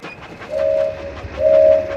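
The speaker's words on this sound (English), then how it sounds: "Swipe left or right to keep the train on the tracks." A train running on tracks in a mobile video game, with a steady rolling rumble, rhythmic clicks and two sustained whistle-like tones sounding over it.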